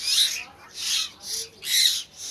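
Two golden myna birds from Khagrachhari, a talking breed, let out four loud, harsh squawks in an even rhythm, close by with short pauses between them.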